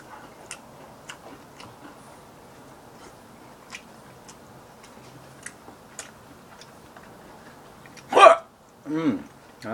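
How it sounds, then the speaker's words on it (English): A person's hiccups while eating chicken: two loud, sharp hiccups in quick succession near the end, following a quiet stretch of faint ticking and chewing noises. "I get hiccups."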